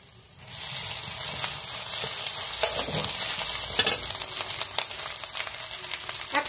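Ginger paste frying in a pan in Bengali home cooking, with a loud, continuous sizzle and occasional scraping stirs close by, without any talking.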